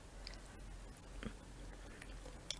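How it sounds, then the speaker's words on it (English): A person chews a small piece of chicken close up, with soft, quiet wet munching and a few faint clicks spread over a low background hum. "I think I cut a piece off so I wouldn't be chewing forever in front of you"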